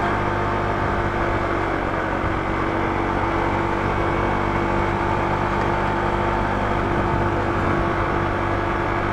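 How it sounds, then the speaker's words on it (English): A Honda ADV160 scooter's engine strains at full throttle up a steep hill, holding a loud, steady drone with a constant whine and no talk over it. "The uphill is crazy. I'm like going full throttle right now."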